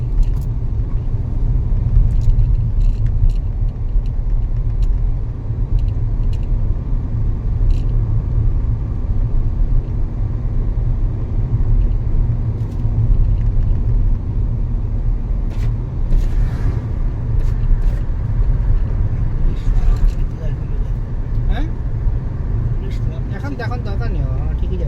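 Car travelling along a state highway near Arambag in West Bengal, steady low road and engine rumble throughout with occasional faint ticks and rattles, no talk.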